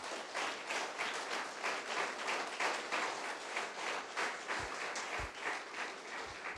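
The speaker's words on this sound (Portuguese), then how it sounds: "Aplauda o Senhor Jesus." A church congregation applauds during a Portuguese-language sermon, a continuous, evenly textured patter of many hands heard at low level from some distance, with a few soft thumps near the end.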